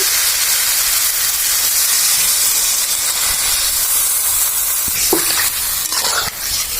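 Water poured onto fried spice paste in a hot pan, a loud steady hiss and sizzle filling the whole stretch, with a few sharp clatters and a surge of steam near the end, no voices.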